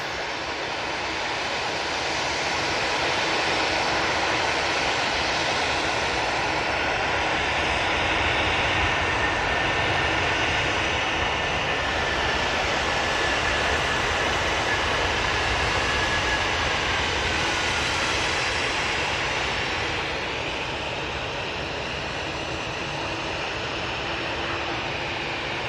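An Airbus A380 at Manchester Airport roars close overhead, its broad jet-engine rumble swelling over about four seconds and holding steady and loud for nearly the whole stretch before easing slightly near the end.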